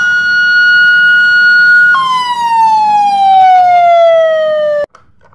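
Siren of a Basarnas search-and-rescue vehicle in a video game, loud and close: a steady high wail that jumps, then slides gradually downward before stopping abruptly.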